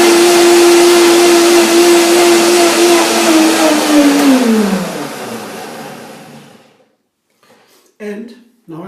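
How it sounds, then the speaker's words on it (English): A blender whirs loudly as it mixes a creamy salad dressing, its motor pitch sagging before winding down to silence, followed by a short stretch of speech. "Blender dance."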